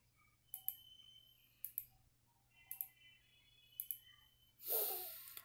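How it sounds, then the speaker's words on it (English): Sharp mouse clicks come in small pairs and groups at a quiet desk while a steel truss is drawn in ETABS, and a brief rustle follows near the end. "Just left click of your mouse"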